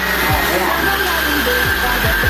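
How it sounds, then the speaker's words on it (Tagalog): Steam vacuum cleaner running with a loud steady whirring roar and a constant high whine, with a few low thumps; no pronounced start-up surge is evident. "Tapos, vacuum na tayo. Siyempre i-on."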